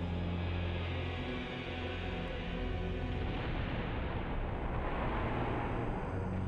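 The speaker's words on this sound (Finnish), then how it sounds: "Tähti räjähtää supernovana." A star exploding as a supernova, rendered as a continuous deep, heavy rumble with a dense roaring wash that holds steady and loud throughout, with no voices.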